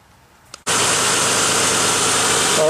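After a brief click, the engine of a Honda Passport or Isuzu Rodeo fires up with its belt refitted following an idler pulley repair, then runs at a steady, even idle close by.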